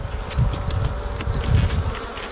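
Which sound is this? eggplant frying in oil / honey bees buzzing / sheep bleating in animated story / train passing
honey bees buzzing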